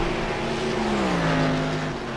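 GT race cars lap Daytona with a continuous engine drone, one car's pitch sliding downward as it passes while others roar underneath, steady and fairly loud.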